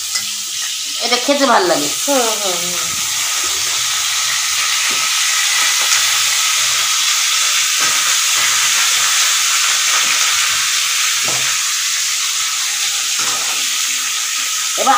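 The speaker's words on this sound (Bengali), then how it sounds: "এবার দিয়ে দেবো ডুবো ডুবো করে কেটে রাখা আলু, একটু বড় করে আলুগুলো কেটে বড় করে" Cubed potatoes and bay leaf fry in hot oil for a vegetarian dish, giving a steady, close sizzle with occasional stirring scrapes. A voice speaks briefly near the start.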